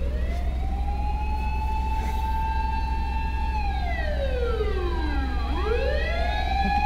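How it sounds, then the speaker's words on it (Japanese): A fire engine's wailing siren passes close by on a street in Japan. The pitch holds steady, then drops sharply and swoops back as the truck goes past, loud and continuous over road noise. "消防車や"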